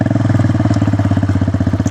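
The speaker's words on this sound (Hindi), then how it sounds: "काफ़ी अच्छा रिस्पॉन्स दे रही है बाइक" A freshly serviced motorcycle idles up close, a loud, even rapid thumping putter that pulses steadily throughout with no speech.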